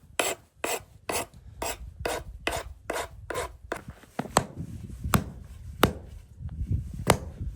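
A rasp files a wooden axe handle in a steady run of about a dozen loud, rhythmic strokes, followed by a few slower, spaced scrapes, close up and with no talking.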